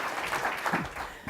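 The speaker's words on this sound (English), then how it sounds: "We need to give Howard Berman a round of applause." A seated audience applauds Howard Berman, a former congressman, with a short burst of scattered clapping heard at some distance in a conference hall.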